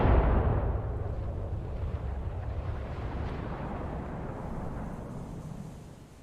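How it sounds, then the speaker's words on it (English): Warship turret guns fire in a naval video game: a heavy, close boom at the start rolls into a long, dense rumble that slowly fades. "Rear turrets are now getting in on the action"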